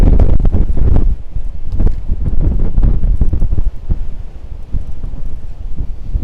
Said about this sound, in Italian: il vento è veramente forte qua